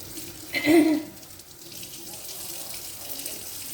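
Pork chops are rinsed under a running kitchen faucet, a brief close splash of water lasting about half a second, then fading into a quiet room hum.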